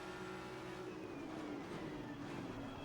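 Race car in Assetto Corsa Competizione sweeping past during a multiplayer race, a steady engine drone with a sliding pitch as the car goes by, loud and continuous with no talk.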